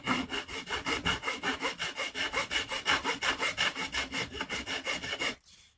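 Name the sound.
filing off guitar fret overhang with a file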